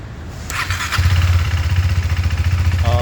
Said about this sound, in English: So we are starting the bike with the BMC air filter now.